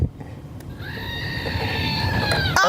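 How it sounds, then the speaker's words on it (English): A screaming goat novelty toy lets out one long, wavering, bleat-like scream lasting nearly two seconds, loud and close, with no talk over it. "Now, the screaming goat is going to try and find your card."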